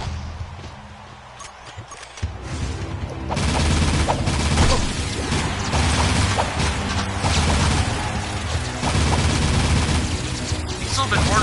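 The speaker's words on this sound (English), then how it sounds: "So we got this little Vulcan barrel, which is actually a machine gun." Vulcan barrel machine gun firing in the video game Jak 3: loud, dense, sustained rapid gunfire with booming impacts, starting a couple of seconds in and continuing almost without pause to the end.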